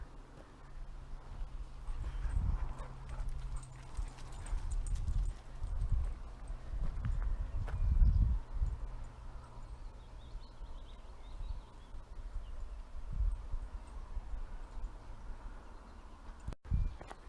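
Slow, uneven hoof clops and soft thuds from horses walking nearby over grassy ground, with faint birdsong and rustling in the background.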